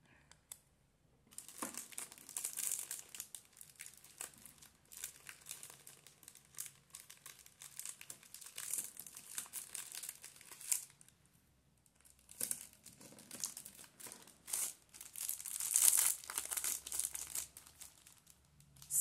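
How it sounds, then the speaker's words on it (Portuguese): A plastic treat bag for Easter favors being folded and taped shut gives steady, close crinkling and rustling for most of the clip, with a louder crackle near the end and a quiet pause at the start. "Eu vou dobrar aqui e passar um pedaço de durex aqui nessa parte para ficar bem justinho."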